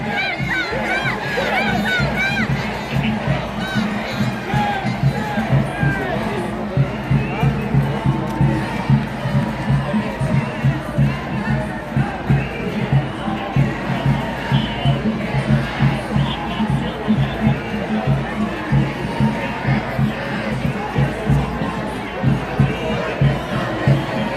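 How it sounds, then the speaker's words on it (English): A protest crowd inside the Cannon Building in DC chants "shame" in a steady rhythmic pulse, loud and close, with babble and shouting around it. "They're yelling shame, they're chanting shame when Marjorie Taylor Greene came back out."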